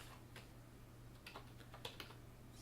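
Keys tapped on a computer keyboard in a handful of soft, irregular clicks, a few louder strokes near the end, over a steady low hum.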